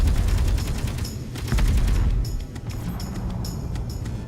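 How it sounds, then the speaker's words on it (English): A flak gun in a modded Space Engineers survival game pounds out a rapid, loud barrage of booming shots with crackling bursts overhead, steady throughout. "Flak gun's just murdered that one."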